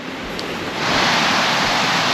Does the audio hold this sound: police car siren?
no